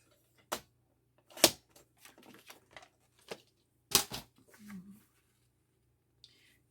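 Scissors cutting off a strip of paper for a handmade envelope journal pocket, heard as several crisp, close snips and rustles in short bursts with quiet pauses between them.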